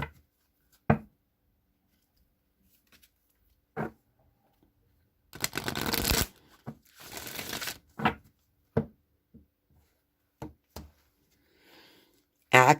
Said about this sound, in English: I'm going to shuffle the deck 3 times and then cut the deck and draw 3 cards